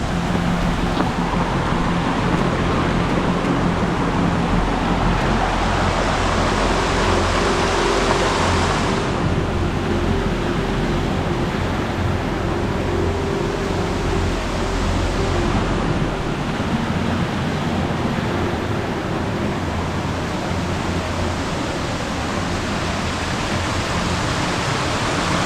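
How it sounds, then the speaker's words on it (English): Nojoqui Falls waterfall near Solvang, California, gives a steady, broad rushing hiss of falling water, loud and continuous throughout with only slight swells and no voices. "Everybody making the pilgrimage up to the waterfall."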